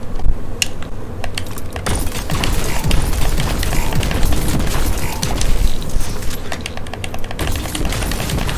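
Continuous weapon fire in Destiny 2 as ammo is spent, a dense rattling stream of rapid shots and impacts running throughout, loud and steady.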